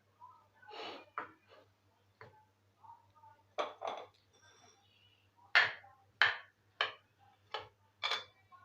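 A spoon works a potato and spice filling in a bowl, making a run of sharp, close clinks and taps in irregular bursts with quiet gaps between them.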